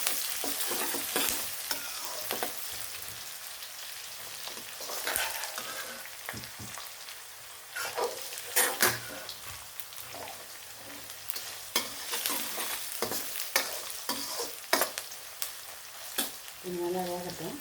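Large onions fry in oil in a pan for chicken varuval, a constant close sizzle broken by repeated scraping stirs of a spatula at an uneven rhythm, with no talking over it.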